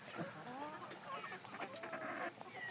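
Livensky chickens and roosters clucking in a farmyard, a run of close, overlapping clucks and throaty calls of varying pitch, fairly soft, with a faint murmur of a voice in the background.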